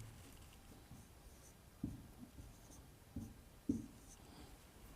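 Faint pen-on-paper scratching as a matrix solution for a class 12 maths problem is written out by hand, with a few slightly firmer strokes against a quiet background.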